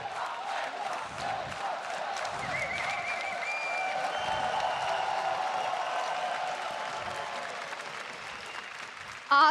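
Esports crowd in Krakow applauding at a League of Legends EU LCS summer match, a dense sustained wash of clapping with scattered shouts and whistles, steady and fairly loud throughout.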